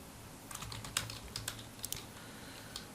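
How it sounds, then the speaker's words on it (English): Keystrokes on a computer keyboard while building a page in the Breakdance page builder, a quick irregular run of close, crisp clicks over a low steady hum. "so I'm just gonna type it"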